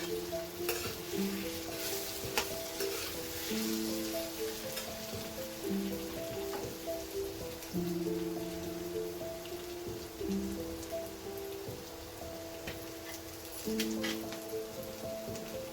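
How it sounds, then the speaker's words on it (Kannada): Capsicum sautéing in a pan for Mangalore-style sabudana khichdi, a steady close sizzle and crackle broken by repeated scraping stirs of the spoon against the pan. "ಕ್ಯಾಪ್ಸಿಕಮ್ ಹಾಕಿದ ನಂತರ ಸ್ವಲ್ಪ ಹೊತ್ತು ಬಾಡಿಸ್ಕೊಳ್ಳಿ"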